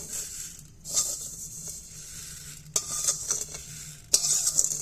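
Rice poured onto hot salt in a pressure cooker and stirred to make puffed rice, scraping and gritty rustling in uneven bursts with sharper clatters of grains against metal.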